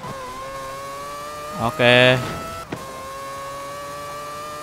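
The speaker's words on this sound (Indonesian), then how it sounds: "Ini kalau nggak salah udah supercharger apa ya? Jadi ada suaranya gitu-gitu." Supercharged car in Forza Horizon 4 driving with a steady engine drone, a short rising whine burst in the middle, and brief talk over it.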